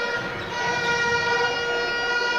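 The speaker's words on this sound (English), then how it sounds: "Sirens ring out on the Bakayoko make." An arena siren at a FIBA U18 AfroBasket basketball final between Cameroon and Mali, sounding as a loud steady harmonic wail that holds for the full length over crowd noise.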